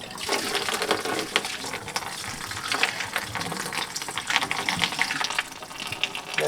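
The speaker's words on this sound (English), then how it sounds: "that's the most of the coolant that should come out" Coolant drains out of a 3.7 V6 Mustang engine during a single turbo build, a steady close gush and splash of liquid running the whole time without a break.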